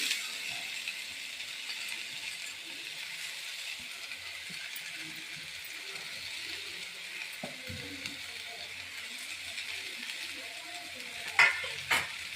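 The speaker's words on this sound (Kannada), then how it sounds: "ಇದನ್ನು ಹಾಕಿ ಸ್ವಲ್ಪ ಬಾಡಿಸ್ಕೊಳ್ಳೋಣ." Grated coconut and spices sauté in a pan for mutton sambar, giving a steady, even sizzle and hiss throughout, with two brief clinks of a utensil near the end.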